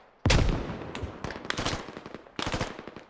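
Gunfire in the tactical shooter video game Squad: a sharp opening shot, then scattered rapid bursts of rifle or machine-gun fire with short pauses between them, loud and close, no voices.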